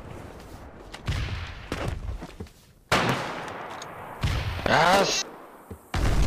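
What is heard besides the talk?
grenade explosions and gunfire in the video game Foxhole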